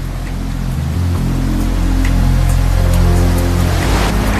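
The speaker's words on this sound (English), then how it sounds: "The rains first arrive in the south in October, then sweep northward." Steady, dense rain falls in the Amazon during the wet season, a loud continuous hiss with a heavy low rumble underneath and no pauses.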